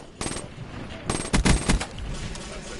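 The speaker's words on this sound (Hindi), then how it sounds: "गंदी गोलियां पड़ी मुझे" Bursts of gunfire in the video game PUBG, several close sharp shots clustered in the middle over quieter background game noise.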